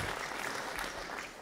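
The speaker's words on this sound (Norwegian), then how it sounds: "Klapp, klapp, klapp." Audience applause at a brass band's anniversary concert, dense continuous clapping from a crowd indoors, steady and moderately loud before tapering slightly.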